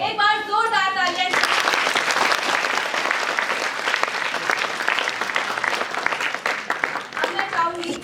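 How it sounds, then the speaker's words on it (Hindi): A theatre audience at a children's play festival gives loud, sustained applause to the young cast, starting right after a brief voice and rolling on steadily, with a voice returning near the end. "एक बार जोरदार तालियां"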